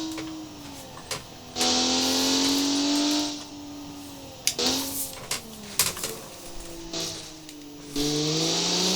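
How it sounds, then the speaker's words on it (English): Simulated car engine in BeamNG idling and revving as it warms up, with harmonic tones rising and falling through several throttle blips and sustained revs, loud and close with no talk. "Warm up the car a little bit."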